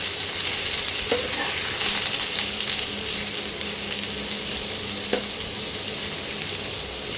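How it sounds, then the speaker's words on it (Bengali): Chopped onions sizzle in hot oil in a pan under a continuous close hiss, while a spatula is pushed through them with a few sharp scraping clicks against the pan. "এখন এই পেঁয়াজটা একটু ভাজা ভাজা করছি"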